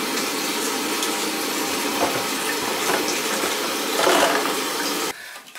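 Water gushes steadily from a tap under high water pressure with a strong, hissing flow, continuous for several seconds before it is abruptly shut off.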